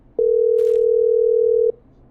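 A steady telephone line tone from the Killer Frequency video game sounds loud and alone, holding one unbroken pitch for about a second and a half before cutting off.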